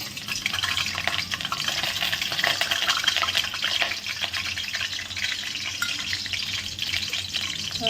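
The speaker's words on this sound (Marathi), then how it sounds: "आता थोडं फोडणीला टाकते मी" A continuous, fairly loud sizzle of garlic frying in hot oil in a wok for tempering, with faint stirring and scraping underneath and no voices.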